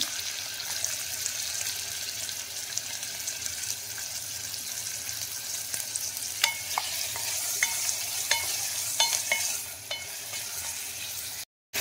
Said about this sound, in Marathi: तोपान तेल गरम केलां आनी तितून आतां हांव कांदो घालता